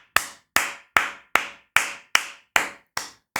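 Nine sharp, crisp claps ring out alone at a slow, even pace, each about 0.4 seconds apart and with a short decay.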